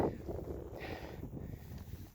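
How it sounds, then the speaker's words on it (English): Steady low wind rumble buffets the microphone on a snowy Alaska trail in winter, a broad roaring hiss with gusty swells and no voices. "it's too windy."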